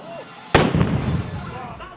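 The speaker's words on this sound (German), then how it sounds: "Eine Besonderheit beim Vulkanlandlauf ist immer der Start mit einem Kanonenschuss der" A cannon fired by the Feldbach town guard starts the Vulkanlandlauf footrace, one sharp, loud boom that rolls off into a fading rumble amid outdoor crowd noise.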